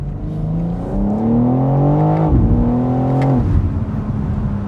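A BMW M4 Convertible with its top down, exhaust note rising through the gears as the engine revs up, drops at a shift, and climbs again, loud and close with no talk.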